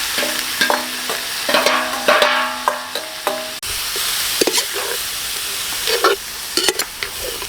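Onion and beef innards for Filipino papaitan sizzle in a pan while a utensil stirs and scrapes in quick bursts, a close, steady frying hiss under the clatter, with no talking.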